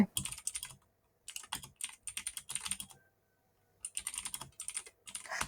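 Bursts of typing on a computer keyboard while entering figures into a personal finance app, clusters of quick keystrokes separated by short pauses, close and clear with no talk.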